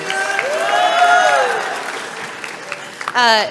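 Applause from the audience at a high school CTE and JROTC awards night, a steady wash of hands that runs throughout, with tonal voices or music sounding over it and a brief louder voice near the end.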